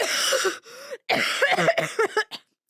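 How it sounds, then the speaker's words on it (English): Several harsh coughs in quick bursts, loud and close, separated by short pauses. "This cough is killing me"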